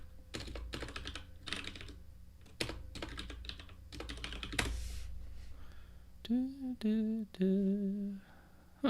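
Rapid bursts of computer keyboard typing, close and crisp, fill the first half, then stop as a voice speaks briefly over a quiet room.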